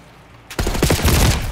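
Rapid automatic gunfire in Call of Duty Black Ops 6 bursts in loudly after a brief quiet start, a dense close fusillade of shots.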